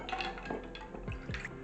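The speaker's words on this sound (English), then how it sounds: "And then I'm going to pour it into my lowball glass" Cocktail of raspberry liqueur and bourbon, just shaken, poured into a lowball glass: a short, close liquid pour with faint ice and glass clinks, no talking.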